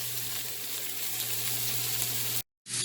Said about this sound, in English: that roast is almost seared all the way around